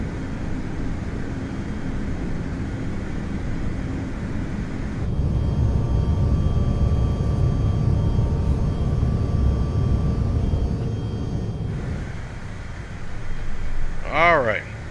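A CRJ 900 climbs out in Microsoft Flight Simulator 2020 with a steady engine hum, a heavier rumble mid-way as the landing gear retracts, then a quieter cabin drone.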